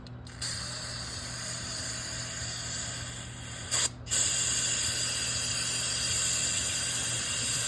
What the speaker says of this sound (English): Now we're gonna take a little bit of brake clean. A good old parts store brake cleaner.